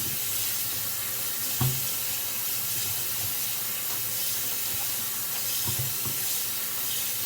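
Cooked noodles rinsed under a cold running tap, a steady loud wash of water with a couple of soft thuds or clunks as the noodles shift, no talking.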